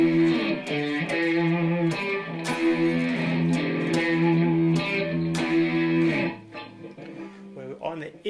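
Electric guitar plays a distorted riff, as performed live at Wembley in 1986: sustained, rhythmically restruck chords and notes at steady loudness, then a softer, thinner tail of picked notes near the end.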